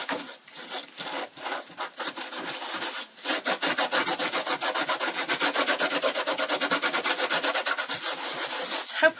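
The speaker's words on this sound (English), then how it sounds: "But what you do, just rub the salt off." Salt is rubbed off a painted watercolour surface in fast, rhythmic scrubbing strokes, close and fairly loud. A few uneven strokes come first, then a steady run of rapid back-and-forth rubbing with no voices.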